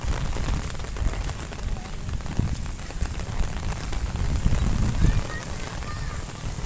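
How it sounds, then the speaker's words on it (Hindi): Steady rain patters and splashes on a hard street surface in a village near Lahore, a dense continuous hiss with scattered drips throughout. "ये तो अल्लाह खैर करे थोड़ी बारिश हुई है"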